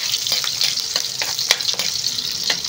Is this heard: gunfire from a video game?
no